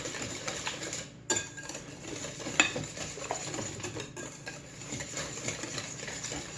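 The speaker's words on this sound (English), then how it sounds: "We'll get all of that mixed together. The pumpkin, the banana, the sugars, the eggs, the vanilla." Wet batter of pumpkin, banana, sugars, eggs and vanilla being whisked in a bowl for banana bread, a steady scraping and swishing at close range with a few sharp clinks against the bowl, no talking.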